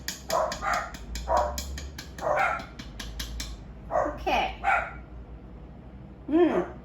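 Household dogs bark in a series of sharp, repeated barks and yips, fairly near, set off by a mail carrier turning around in the driveway; a person speaks briefly among the barks.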